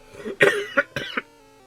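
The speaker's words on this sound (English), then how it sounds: "this game's so awful it's making me have to cough." A person coughs several times in a short burst of three or four hacking coughs, close and fairly loud, with no talking.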